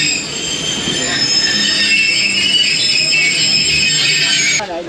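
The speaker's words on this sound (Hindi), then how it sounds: "coat Radha Kishan railway station आ गया है" A Pakistani economy-class express train pulls into Kot Radha Kishan station, its wheels squealing loudly and continuously against the rails in a sustained metallic screech.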